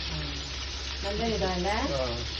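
Fish frying in a small amount of oil in a hotel kitchen gives a steady, loud hiss throughout, with a voice speaking over it in the second half.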